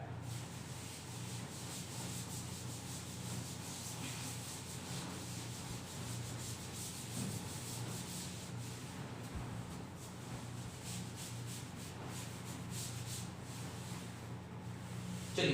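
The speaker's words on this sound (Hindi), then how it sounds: "चलिए इसको रब किया जाए और अगले क्वेश्चन पर" An eraser scrubs chalk writing off a classroom board in a long, continuous run of close, gritty rubbing strokes, fairly quiet and with no talk over it.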